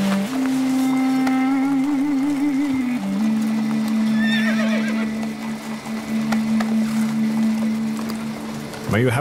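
Horses neigh and whinny as a caravan readies to depart, a sustained loud tonal call with wavering pitch over clopping hooves and general bustle, with voices talking in the background.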